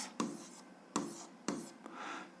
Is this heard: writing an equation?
yes